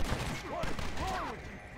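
Gunfire in Red Dead Redemption: Undead Nightmare, a quick burst of shots blending with someone talking over the top throughout.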